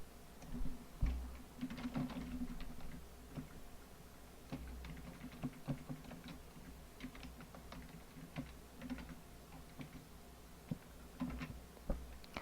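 Typing on a computer keyboard, soft, quick key clicks in irregular bursts, close and quiet over a faint low hum, with no talk.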